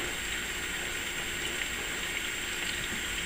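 A garlic and onion sauce with green pepper and celery simmers in a pan, giving a steady, dense bubbling hiss that stays even and close for the whole stretch.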